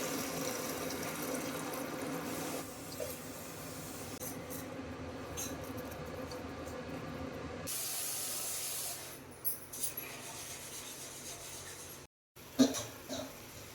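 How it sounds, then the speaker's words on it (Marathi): Water pours into a simmering pot of gravy with a steady hiss, shifting partway through, then a short gap and a few clatters. "ह्या ग्रेव्हीमध्ये पाणी टाकू"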